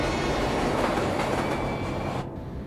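A train in a video game rumbles loudly along the tracks, a continuous heavy roar of wheels and carriages close by that eases slightly toward the end.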